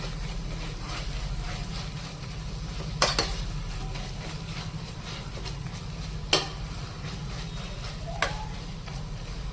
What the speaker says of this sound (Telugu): నెయ్యి యాడ్ చేద్దామండి. సో ఒక్కసారి అలా కలిపేసుకొని ఇంకా దించేద్దామండి.